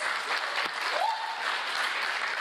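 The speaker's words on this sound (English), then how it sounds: "Can you round of applause for the dancers?" Audience applause for dancers at a campaign kick-off event, a steady crowd clapping throughout the short stretch, moderately loud with a brief faint tone in the middle.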